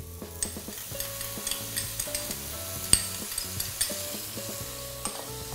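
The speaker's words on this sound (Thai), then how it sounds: "เราจะผัดให้เต้าซี่เนี่ยหอมก่อน" Fermented black beans (tao si) stir-fried in a wok with garlic oil, minced ginger and coriander root, heard as a light sizzle under repeated metallic scrapes and clanks of a spatula on the wok.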